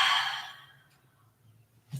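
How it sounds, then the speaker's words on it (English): A single deep, slow exhale during a yoga stretch, close and soft, trailing off into near silence, followed by a faint rustle. "A nice deep breath."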